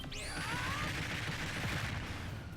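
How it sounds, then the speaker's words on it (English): Hero's Magic Burst in Super Smash Bros. Ultimate goes off as a loud video game explosion, a rising whooshing sweep followed by a dense, crackling burst and rumble that sustains. "that final explosion I was talking about that really reminds me of Vegeta"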